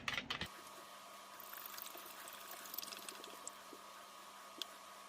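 Water pours steadily and quietly into a low-budget emergency water filter, a soft continuous trickle with small splashes and no talking.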